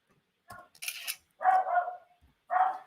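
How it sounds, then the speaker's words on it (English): A few barks from a dog, loud and close, arriving in short bursts separated by silence, with no one talking over them. "Dogs are barking."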